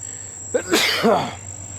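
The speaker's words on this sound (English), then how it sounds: "I just sneezed." A single sharp sneeze from someone who has just eaten a Pasilla Bajio pepper, heard close up as a quick intake followed by the burst, over a faint steady high-pitched background hum.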